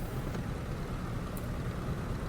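Cessna 195 Businessliner radial engine in a flight simulator game throttling up while taxiing, a steady, loud, broadband drone that holds constant without clear rise or breaks.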